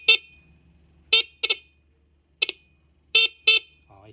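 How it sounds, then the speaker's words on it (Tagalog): Stock horn on a TMX 125 motorcycle, powered through an Amber 30 relay with a fuse, sounds in six short, sharp honks with uneven gaps between them and near silence in the breaks, with no talk. "Ito yung stock horn natin"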